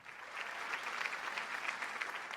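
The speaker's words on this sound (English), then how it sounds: "A round of applause, please" An audience claps steadily and evenly for a hockey hall of fame honoree at an induction ceremony, with a dense, moderately loud patter that carries on without a break.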